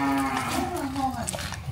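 A cow on a Vietnamese cattle farm gives a loud, close, drawn-out moo that wavers in pitch and fills the whole short stretch, with faint farm noise beneath.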